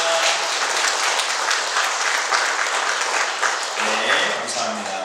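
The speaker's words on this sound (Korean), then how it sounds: "박수로 우리 격려하겠습니다" A church congregation applauds the choir, giving steady, dense clapping for several seconds before a voice briefly speaks near the end.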